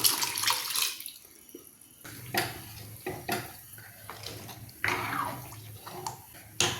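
Water splashes and trickles into a pot of lentils in uneven bursts, with a few metallic clinks of cookware nearby.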